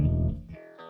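A short burst of a natural bass line from a studio mix: a deep, full, sustained low note moves to a thinner tone, loud and up close with no voice over it.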